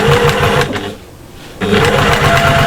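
Sewing machine stitching a seam on fabric for spice storage pods, a loud steady mechanical whir with rapid needle chatter that stops for about a second, then resumes at full speed.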